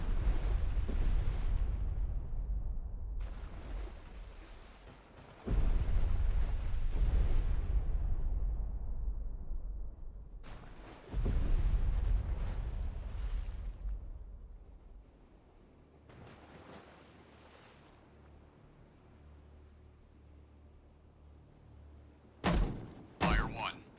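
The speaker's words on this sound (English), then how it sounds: "Ready depth charges." Depth charges explode underwater in Destroyer The U-boat Hunter, several heavy, deep booms spaced seconds apart, each rumbling and fading into sea wash, followed by sharper cracks at the end; voices call out orders between them.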